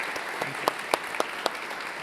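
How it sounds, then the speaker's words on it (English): An audience applauds three entrepreneurs at an event in India, a steady even wash of clapping with a few sharper claps standing out, at moderate volume and heard from a middle distance. "a big round of applause for all three of our entrepreneurs"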